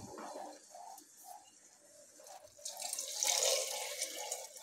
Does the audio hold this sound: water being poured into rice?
yes